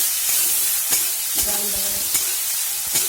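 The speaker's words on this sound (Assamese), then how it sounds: "মাছ ভাজা তেলখিনিতে দি দিছোঁ কাটি আৰু পিঁয়াজ অলপমান" Onions sizzle in leftover oil from frying fish, a steady close hiss with occasional soft stirring scrapes and clicks from the pan.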